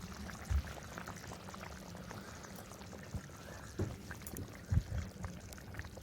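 Spiced curry bubbling in an iron wok over a wood-fired stove, a soft continuous simmer with occasional pops and plops, close and fairly quiet with no talking.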